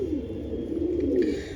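A flying pigeon gives a soft, low, continuous coo, close and alone.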